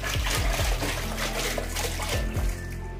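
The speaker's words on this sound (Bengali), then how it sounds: "এখন আমি যে ছোট ছেলেকে স্নান করিয়ে দিচ্ছি" Water runs and splashes steadily while a small boy is bathed at home, a continuous trickling wash with soft splatters throughout.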